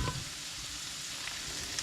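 A deer roast sizzles and fries in a pot after being flipped, with a steady, close crackling hiss.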